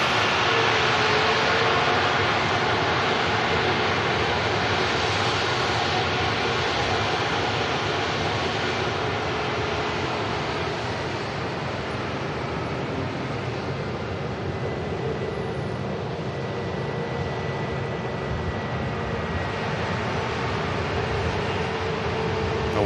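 A heavy airliner departs Manchester Airport, its engines a continuous broad roar that stays loud and steady throughout, with no voices over it.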